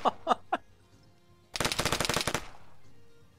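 Gunfire in a PvP capture-the-flag video game: three separate sharp shots ring out, then after a short pause a fast, loud burst of about a dozen rapid automatic rounds, with no talking.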